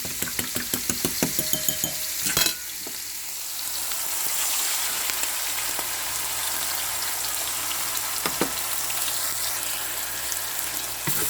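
Scrambled egg cooking in oil in a pan for chicken mushroom fried rice, opening with quick tapping utensil strikes, then a steady crackling sizzle that runs on with occasional scrapes.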